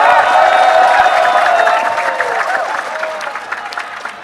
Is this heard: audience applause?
yes